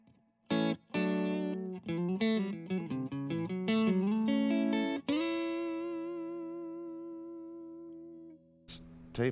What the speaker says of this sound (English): going to add some reverb.